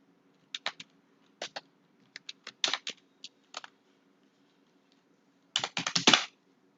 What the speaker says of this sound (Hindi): जैसे कि मैं यहाँ पे टाइप कर ले रहा हूँ